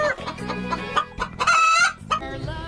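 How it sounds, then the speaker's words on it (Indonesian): A video-game chicken clucks in a quick, choppy series of close, loud calls, with one higher, drawn-out squawk in the middle. "Widih, di sini ada ayam,"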